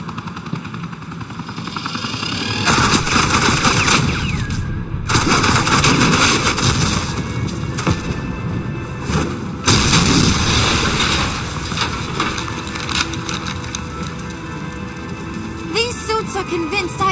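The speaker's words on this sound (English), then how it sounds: "suppressing fire." Sustained suppressing gunfire in a Batman Telltale video game, loud and continuous with dense rattling bursts and a droning aircraft-like roar underneath, dropping briefly between volleys.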